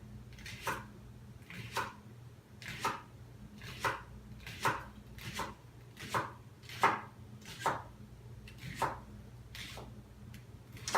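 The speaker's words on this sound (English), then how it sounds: "So chop them up as thin as you'd like." Knife chopping leeks and root vegetables into thin slices on a cutting board, a steady series of about a dozen crisp, evenly spaced cuts close up, with a low background hum and no talking.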